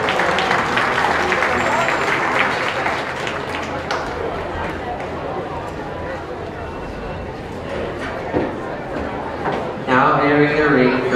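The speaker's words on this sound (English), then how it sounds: "We'll have him come back and give these exhibitors a round of applause." Crowd at a county beef show ring applauds the exhibitors, sustained clapping under a loudspeaker announcer's voice.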